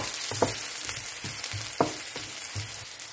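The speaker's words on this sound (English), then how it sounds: "saute the garlic, onion, and spring onion at same time" Garlic, onion and spring onion sauté in oil in a pan with a constant bright sizzle, broken every half second or so by the soft scrape and knock of a stirring utensil against the pan.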